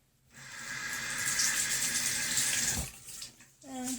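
Water from a running tap pours steadily over a bar of soap tucked inside a mesh soap net, a close hiss lasting a few seconds before it stops, and a voice begins speaking at the end.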